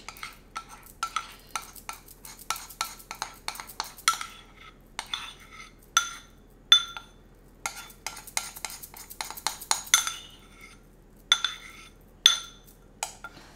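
Melted chocolate being stirred into pastry batter in a bowl: a close series of spoon scrapes and light clinks against the bowl, in uneven bursts with short pauses, and no talking.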